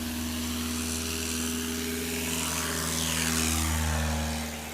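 Steady, loud droning engine and propeller of a small airplane at a STOL competition airfield, holding a constant roar whose pitch shifts slightly as it passes nearby.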